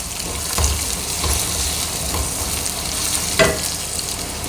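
Chopped onion sautés in a hot pan with oil, a steady sizzle broken by scraping stir strokes, one sharper stir near the end, and no talking.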